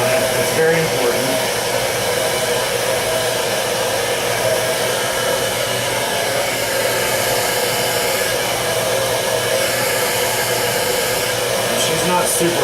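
A hair dryer fitted with a concentrator nozzle blows steadily at close range while drying a section of hair at the crown, a constant airy roar holding level throughout.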